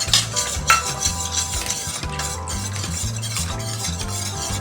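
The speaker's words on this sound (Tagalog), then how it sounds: "So haluin lang ito guys hanggang ma-dissolve ang ating dried ingredients." Cornstarch and gulaman powder stirred into fruit cocktail juice to dissolve, a steady scraping swirl of a spoon against a pot with faint clinks, continuous and close, no talking.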